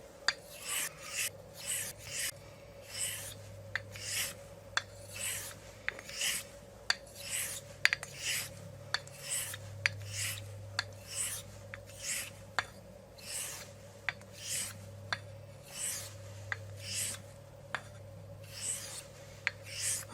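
A Thiers-Issard 6/8 inch 889 straight razor is honed on a convex Arkansas stone and a Belgian stone; rhythmic close scraping strokes repeat steadily, about one per second, over a faint low hum.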